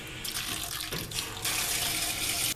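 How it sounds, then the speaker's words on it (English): Tap water runs steadily into a pot of soaked, precooked dried beans, a continuous close rushing and splashing that swells louder partway through, with no talking. "I want to cover these with enough water that they are under the water by about 2 inches"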